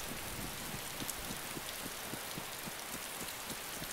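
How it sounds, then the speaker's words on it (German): Constant rainfall in the video game DayZ Standalone, with a dense hiss and repeated soft drip taps, steady and unbroken, no voices. "Regnet es bei dir oben?"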